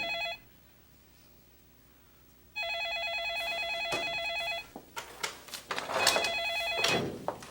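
A telephone rings loudly in repeated bursts, an electronic trill that stops and starts, with some rustling and clatter in the last seconds.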